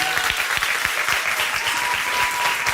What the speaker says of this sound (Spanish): Denme un aplauso al voluntario